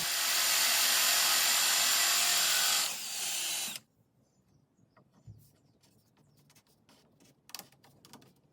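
A Forstner bit drills into maple wood, with a loud, steady whirring grind for about three seconds that cuts off abruptly, followed by faint clicks and handling noises.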